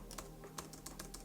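Typing on a Logitech MX Keys keyboard, a quick run of soft, close key clicks at an irregular pace, quiet and with no talk.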